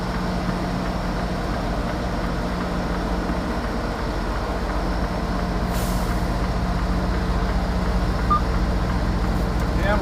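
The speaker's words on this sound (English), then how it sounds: "Damn truck coming out of creep mode." A truck backing up at a cold-storage warehouse in Dallas, Texas, with a steady diesel engine drone and a brief hiss of air brakes near the middle, all continuous and fairly close.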